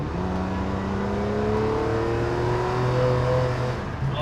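Ferrari 456 GTA V12 engine accelerating hard out of a corner, heard from inside the car as a smooth, rising multi-toned roar that climbs steadily in pitch with no talking.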